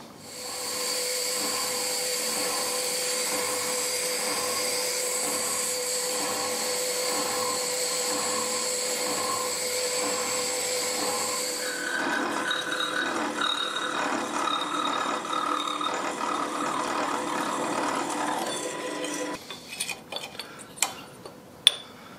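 A milling machine cuts a metal vee block to full depth, giving a loud steady whine for about twelve seconds that then shifts to a rougher tone as the cut finishes, followed by sporadic clicks and knocks, with no talking.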